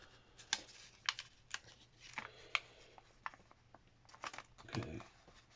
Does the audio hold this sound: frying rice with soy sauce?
no